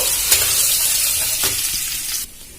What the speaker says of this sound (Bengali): ফোড়নে দিয়ে দেবো 5 ফোড়ন, দিয়ে দেবো শুকনো লঙ্কা, দিয়ে দেবো আদা কুচি। ভালো করে ভেজে নেব।